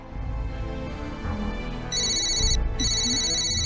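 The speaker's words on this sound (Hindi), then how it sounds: "देखा बेटा, तुम्हारे पापा पहले फोन करते हैं," A telephone rings in a tense indoor movie scene, a bright electronic ringtone repeating in steady bursts over a continuous background score, loud and close.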